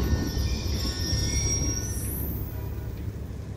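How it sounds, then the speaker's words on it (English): A train rolls past in Call of Duty Black Ops 2, a steady low rumble of wheels with a high metallic squeal that rises and sweeps upward. "Ain't getting anything else with that train in the way."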